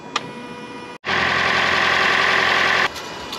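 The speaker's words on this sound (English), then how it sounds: "start your engine for a couple of minutes" A Lexus ES300H starts after an oil change and settles into a steady, even idle hum for about two seconds before cutting back to a quieter background.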